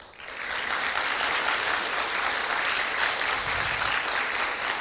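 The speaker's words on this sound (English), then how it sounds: "Please clap yourself for your all failures so far." Audience applause at a school event, a steady crowd clapping that swells in quickly and holds at a constant, fairly loud level throughout without talk over it.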